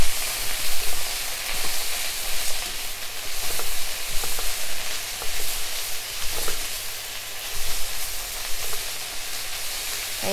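Cabbage stir-frying in a pan, a loud continuous hissing sizzle with soft stirring scrapes and small pulses throughout, heard alone with no talking.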